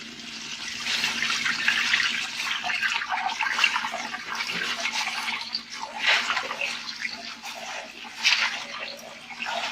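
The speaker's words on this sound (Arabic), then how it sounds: "غسلنا هاد العشوب" Fresh herbs being rinsed under a running tap in a home kitchen, a steady broad splashing stream of water that holds for the whole stretch with slight surges, no talking.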